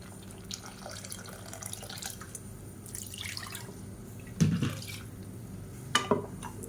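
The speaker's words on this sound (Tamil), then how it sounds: "இப்போ இன்னும் கொஞ்சம் தண்ணி சேர்த்துக்கிறேன்." Water poured into a pan of kulambu gives soft dripping and trickling over a low hiss, with a couple of louder splashes and a clink of the vessel near the end.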